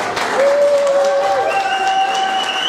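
Audience applause and cheering fill a hall at a band's New Year's Eve concert at U Zvonu in Dolní Dubňany, a steady dense clapping wash with sustained guitar or keyboard tones ringing over it.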